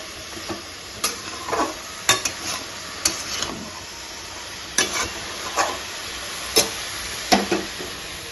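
Vegetable stalks, potato, pointed gourd and sweet potato sizzling in a pan with mustard and poppy seed while a spatula scrapes and stirs in intermittent strokes, close by, with no talking.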